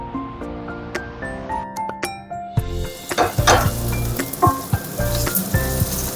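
Onions sizzle steadily in a hot pan, a loud, continuous frying hiss punctuated by clinks and scrapes of a utensil stirring against the metal.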